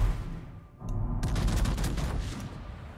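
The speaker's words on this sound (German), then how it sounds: "So, jetzt hat die Bungo auf uns geschossen." Naval gunfire from the warship Bungo in the World of Warships video game: a dense rumbling volley of booming shots starting about a second in and rolling on to the end, over a constant low game background.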